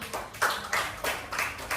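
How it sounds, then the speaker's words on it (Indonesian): Children in a classroom applaud with a short, loud patter of scattered claps that rises and falls in a few quick bursts. "tepuk tangan untuk kalian semua"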